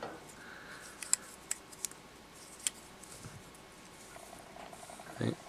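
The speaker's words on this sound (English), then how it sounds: "Just size it up, make a nice cut on the end." Scissors snip fly-tying fibers for a Purple Blossom flex tube fly, a few faint, crisp clicks spaced irregularly over a quiet room hush, with a soft rustle at the end.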